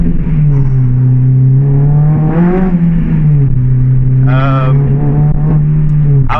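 A Honda Civic FN2 Type R with a K24 engine swap revs up and down close by, its strong harmonic engine note rising and falling in loud pulls, with slight voice-like sounds under the engine.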